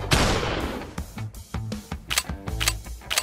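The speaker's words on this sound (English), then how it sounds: "I have shotgun for you zombies!" Shotgun blasts aimed at zombies in a Minecraft animation, with several loud, sharp bangs spaced irregularly across a few seconds, close and punchy amid other busy effects.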